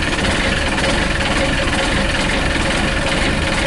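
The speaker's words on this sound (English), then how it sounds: "Tanya just kicked over the motor." The inboard engine of an Island Packet sailboat, newly fitted with a heat exchanger, running after starting: a steady, dense mechanical chugging and knocking with continuous vibration, close and loud, no voices.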